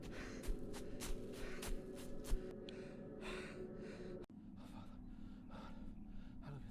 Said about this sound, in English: The sounds of heavy breathing and leaves crunching under running feet are heightened